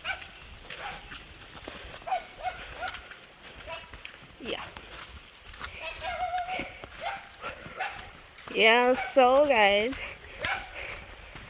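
A dog barks several times in quick bursts near the microphone during a walk along a bush road, with hooves clopping and people talking throughout.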